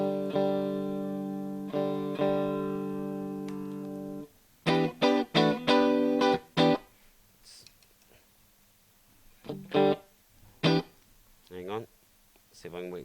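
Clean electric guitar, a Tokai Silverstar Strat copy through a Ceriatone Creme Brulee amp on the clean channel, rings out in a long sustained chord, then separate plucked notes and short phrases follow, with pauses between them.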